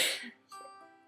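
A single harsh cough bursts out close by, followed by a faint raspy breath.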